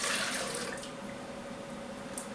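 Activated yeast mixture poured into a mixing bowl for soft pretzel dough, a steady liquid pour and trickle that is strongest at the start, then fades to a quieter stream with a faint steady hum underneath.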